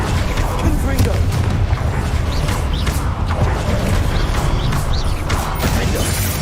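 Confringo fire spell blasts in the Hogwarts Legacy video game, a loud, sustained roar of fiery explosions and crashing combat effects filling the whole stretch without pause.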